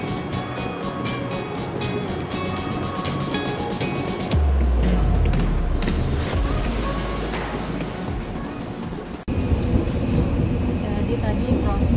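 A train rumbles at Tanjung Priok railway station amid steady, noisy ambience. A deep rumble swells partway through and holds before easing.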